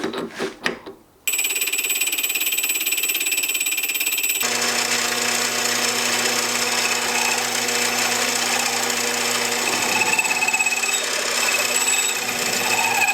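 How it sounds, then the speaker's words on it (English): A short rattle of handling gives way to a small lathe humming and whirring steadily, with a high tonal whine throughout. "Let's see what our little lathe can do."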